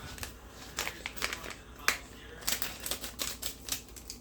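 Kitchen scissors snip while a quick caramel dessert is made, a quiet series of sharp, irregular clicks and crisp cuts spread across a few seconds with no speech.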